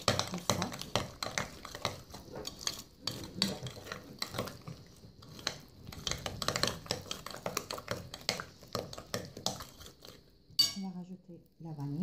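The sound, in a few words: mixing egg and sugar in a bowl for apple cake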